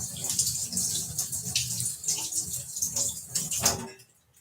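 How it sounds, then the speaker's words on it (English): Tap water runs and splashes over a Hokkaido pumpkin in a kitchen sink, an uneven gushing and spattering as the pumpkin is turned under the stream, then a sudden stop. "Wash the pumpkin."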